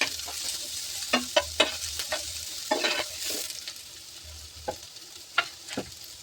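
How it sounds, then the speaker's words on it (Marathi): Onion and mixed vegetables sizzle in a frying pan for chapati noodles, with a soft steady hiss and irregular spoon clinks and scrapes as they are stirred. "ते आपण चांगलं फिरून घेऊ."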